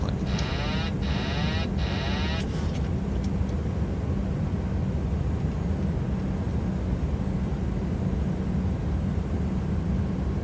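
Airplane on final approach in a flight simulator hums with a steady, broad engine drone throughout, while a few brief electronic chirps and beeps sound near the start.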